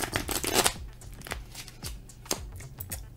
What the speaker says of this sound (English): if you try to do a riffle shuffle with these